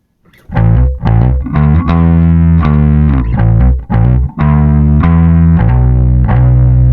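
Bass through a Darkglass Kaamos overdrive pedal with boosted drive plays a series of gritty, sustained notes and short phrases, loud and close, with thick distorted low end.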